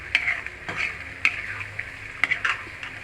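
Pirandai (adamant creeper) chutney paste stirred in sizzling sesame oil in a pan, with a steady frying hiss and intermittent scraping clicks of the spoon against the pan, close and moderately loud.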